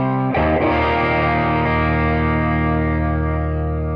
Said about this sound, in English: here's the basic driven chorus tone.